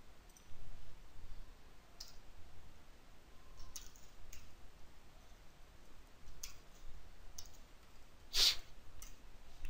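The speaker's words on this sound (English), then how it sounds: "let me just finish typing everything" Typing on a computer keyboard while setting up an SQLite database: faint, irregular key clicks in a quiet room, with a few sharper, louder taps standing out.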